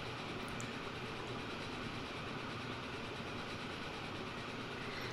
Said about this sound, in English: that gives us an excuse to ride a train through this line here that was laid for the passengers